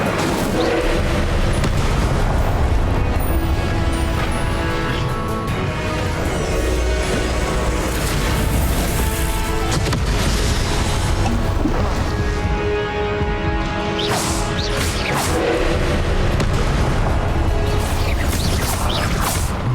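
The Incendio fire spell is cast in Hogwarts Legacy on the Switch amid a loud, dense mix of booming blasts, crashes and whooshes that runs without a break, layered over a constant game soundtrack.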